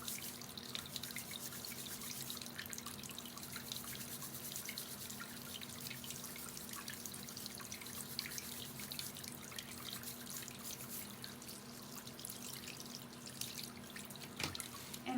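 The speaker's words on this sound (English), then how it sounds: "And then you can take your brush, wet that, scrub your nails." Nails scrubbed with a brush under a running tap at a sink, a faint, continuous wash of water and scrubbing at low level throughout.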